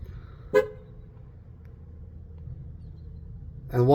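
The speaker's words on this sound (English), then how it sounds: "once you hear the horn beep, that means the training is complete" A Ford Expedition horn gives two short beeps after TPMS sensor training, one near the start and another at the end, heard from close by over a quiet background hum.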